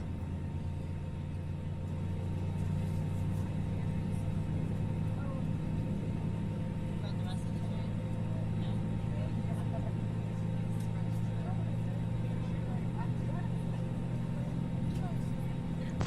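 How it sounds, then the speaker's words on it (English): An Airbus A320neo with LEAP engines starts up in Microsoft Flight Simulator 2020, a steady deep rumble and low drone holding evenly throughout at moderate level. "I love the leap startup sounds. It's just, I don't know why, but like that one deep rumble sound is just amazing."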